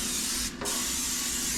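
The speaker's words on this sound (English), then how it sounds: "We're going to spray it with some Pam." Pam cooking spray hisses briefly into a foil pan in a kitchen, a short nearby spray burst that interrupts the steady background noise.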